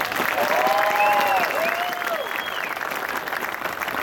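An outdoor crowd at a veterans memorial motorcycle ride opening ceremony breaks into sustained applause, loud and dense, with a few whistles riding over the clapping.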